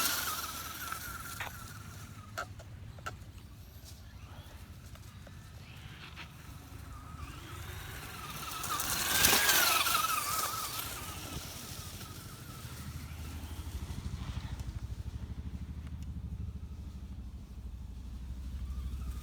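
A cheap Traxxas Slash RTR radio-controlled truck drives outdoors, its small electric motor whining faintly at a distance before it swells into a loud fly-by pass near the middle and fades off again.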